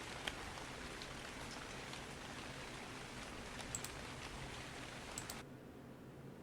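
Steady rain falls in the ARK Ragnarok video game as a dense, even hiss of raindrops with a few faint clicks. It stops abruptly near the end.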